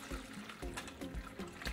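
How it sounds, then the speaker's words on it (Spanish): Quiet trickling and splashing of water being poured into a pot for coffee agua fresca, a steady liquid stream with faint clinks, no voices. "agregamos un poco de agua"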